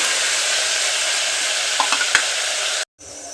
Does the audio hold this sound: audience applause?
no